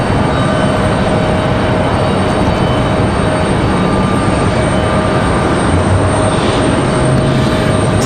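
A JetBlue airliner roars at Raleigh-Durham International Airport, a steady, loud, broadband jet rumble and hiss from a distance with no speech.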